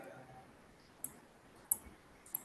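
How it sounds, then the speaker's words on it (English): Computer mouse clicking during ImageJ/Fiji image analysis, three crisp separate clicks spaced about half a second apart over a faint room hiss, close and with no talking. "by clicking this."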